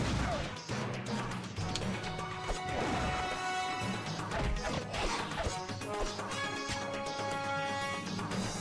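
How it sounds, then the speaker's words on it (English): Containers smashing in the Ben 10 Protector of Earth video game, a dense run of crashes and breaking impacts layered over busy game music and effects, loud and continuous throughout. "Better smash more containers if I want to stay fast"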